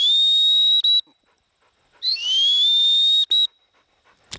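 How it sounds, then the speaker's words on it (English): Shrill hunt whistle used in duck dog training, two long sustained blasts separated by a pause, each ending in a short extra toot, loud and close, with a brief thud at the end. "just do that hunt whistle with her"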